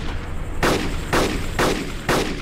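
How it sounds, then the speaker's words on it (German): Four loud, evenly spaced gunshots fired at a car's engine hood in DayZ Epoch, each a sharp close crack with a short decay over a low engine hum, no talking. "Musst du auf die Motorhaube schießen."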